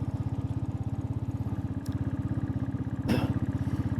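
A motorcycle engine runs steadily while riding on a road trip from Bangalore to Chikmagalur, with an even, rapid throbbing pulse held close and loud throughout and a brief sharp rattle or knock near the end.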